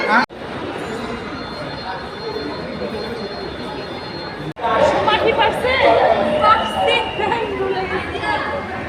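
Rumbling metro train noise with a loud surge after a cut, heavy crowd chatter and voices throughout.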